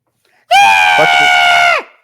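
A person vocally imitates a high-pitched scream from outside during a tabletop role-playing game session, giving one loud, sustained shriek of about a second that cuts off abruptly, with no other talk around it.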